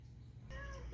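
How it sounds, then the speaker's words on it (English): A house cat gives a single short, faint meow in the background of a quiet indoor room, with no talk over it. "Sorry if you can hear my cat meowing in the background."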